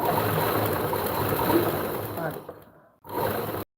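A sewing machine stitching a lined suit runs in a steady buzzing whir, stops briefly, then starts again for a short burst before cutting off; no speech is heard.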